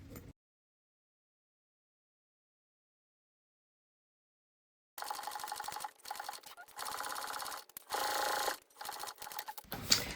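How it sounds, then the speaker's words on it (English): A sewing machine top-stitches across a seam on a crossbody bag, running in several bursts separated by brief pauses after a long silent stretch. "And now we're going to top stitch this across."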